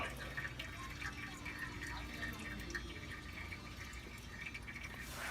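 Transmission fluid from a Ford 4R70W automatic draining into a drain pan, a steady continuous liquid trickle and patter with faint drips, close and constant throughout with no talking.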